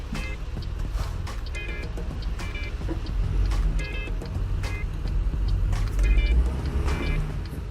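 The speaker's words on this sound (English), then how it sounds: "Wait for a gap in the traffic." Road traffic in American Truck Simulator on a New Mexico highway: a steady, moderately loud rumble of passing vehicles with engine drone swelling and fading, plus a few faint repeating tonal blips over the noise.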